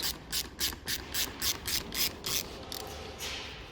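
Ratchet wrench clicking in rapid bursts while loosening a part on a Suzuki GSX 200cc motorcycle, about a dozen close, crisp ratcheting strokes in a steady rhythm with no talk.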